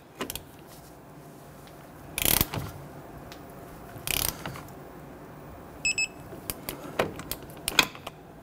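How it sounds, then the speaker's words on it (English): A ratchet wrench clicks in short bursts while strut bolts and nuts are torqued to the knuckle on a 1992-1996 Toyota Camry, with several separate loud ratcheting runs and lighter metallic clicks between them, close and without talk. "going to torque down the strut bolts and nuts to the knuckle"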